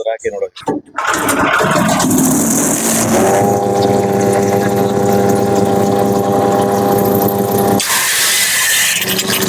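A small carburetor engine at an agricultural fair sputters to life after a few rough turns, then settles into a loud, steady running drone with a strong harmonic hum.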